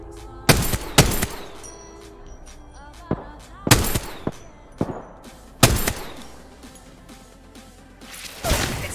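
Video game gunfire cracks out in sharp, loud bursts: several single shots and short volleys spread irregularly over quieter ambient noise.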